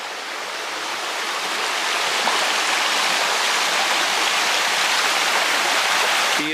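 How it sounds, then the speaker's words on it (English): A nearby stream on the Appalachian Trail rushes steadily, a broad, continuous wash of running water that holds even and fairly loud throughout with no voices. "Seems like it's been forever since I've seen nice running water"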